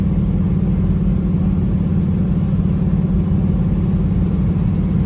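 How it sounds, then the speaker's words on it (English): A 1972 Chevrolet El Camino's engine hums in a steady, low, smooth rumble while driving, heard from inside the cab, continuous and fairly loud with no talking. "this car drives out smoothly"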